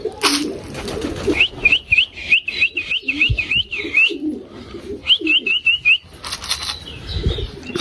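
Pigeons at a morning feeding, with close, loud repeated whistled chirps in two bursts, wing flaps and scuffling around them, and no voices.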